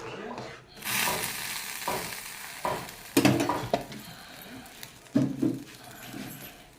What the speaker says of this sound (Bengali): বন্ধুরা, আমার তরকারিটা কিন্তু ফুটে উঠেছে